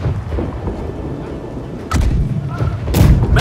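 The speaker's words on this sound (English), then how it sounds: "Right side cannons fire, all of them." Several right-side cannons fire in the pirate naval game Blackwake. Two deep booming blasts land near 1.9 s and 3 s over a constant rumble of battle noise.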